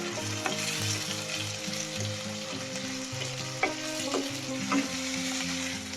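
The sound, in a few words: tomatoes sautéing in a pan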